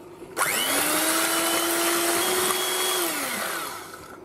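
An electric hand mixer beats four eggs for a carrot cake, a steady whirring motor hum that starts abruptly, holds for about three seconds, then winds down. No one speaks over it.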